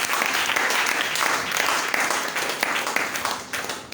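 A church congregation breaks into steady applause, a dense wash of many hands clapping together for several seconds before it begins to thin out at the end.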